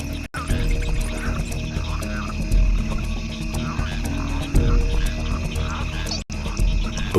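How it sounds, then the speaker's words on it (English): Frogs croak steadily in a wild nighttime setting, a dense chorus of low rumbling calls with higher chirps layered above, continuous and fairly loud throughout. "frogs try to stay hidden or reduce their calls to a brief low-frequency rumble"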